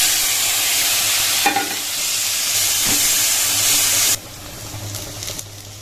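Onion paste fries in a pan with a loud, dense sizzle and hiss, broken by a couple of sharp scraping stirs, the sizzle dropping noticeably in level toward the end; no speech.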